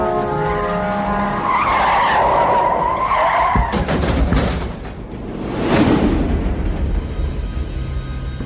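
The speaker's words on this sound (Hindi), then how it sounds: "जीप की दूर जाती आवाज एक ट्रक के करीब आने की आवाज में बदल गई।" Vehicle engines in a horror-story sound effect, a jeep pulling away as a truck draws closer, with loud whooshing, rising and falling road noise and a tire-like skid partway through, no voices.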